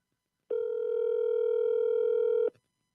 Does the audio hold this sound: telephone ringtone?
yes